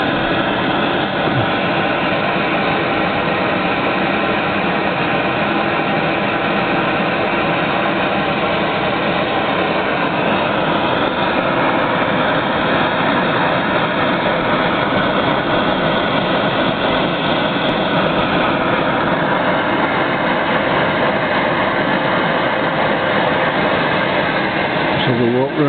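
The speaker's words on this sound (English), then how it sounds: "Have a walk around the engine." A Robinson hot air engine runs with its water cooling pump, giving a continuous, loud mechanical drone that holds steady and close the whole time, with no pauses or changes in rhythm.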